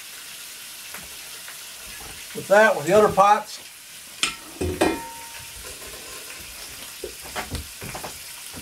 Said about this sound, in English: frying up these spuds like this